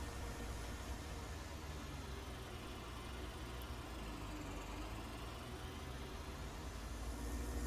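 A Case Steiger tractor in Farming Simulator 19 holds a steady, faint engine drone with a broad hiss, unbroken and alone for the whole stretch.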